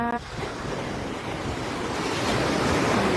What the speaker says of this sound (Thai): ลมเย็น เย็นพี่น้องค่ะ